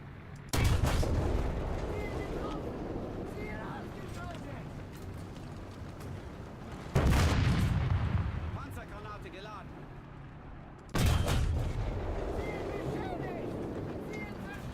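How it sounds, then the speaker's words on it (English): Tank cannon fire and shell explosions in a tank combat video game, including a hit on an IS heavy tank: three loud, heavy booms spaced several seconds apart, each decaying into a long rumbling tail. "my shot actually did explode and did kill everybody else after it penetrated the cupola of the IS tank"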